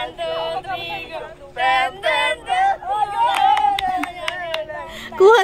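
Quick claps from a girl's hands break in among children talking and laughing. The claps are a brief run of sharp, close slaps, and voices carry on under and around them.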